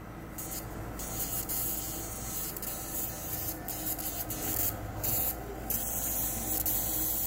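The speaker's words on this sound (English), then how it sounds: "Again, you can see and hear the discharge." An electromagnetic machine discharges electricity through limestone, giving a steady, loud hissing crackle with a constant hum underneath and brief bursts of harsher static throughout.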